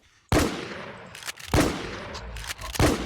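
KT Decider shotgun fired in the game Infestation while hunting a boss in an abandoned town: three loud, booming blasts spaced about a second apart, each trailing off before the next.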